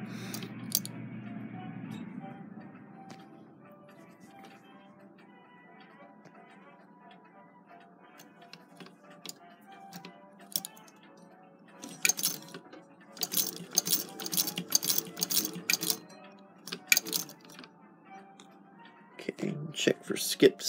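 A Singer 127 sewing machine runs after its shuttle carrier has been replaced: a low hum at first, then a quieter stretch, followed by bursts of light ticking and mechanical clatter toward the end.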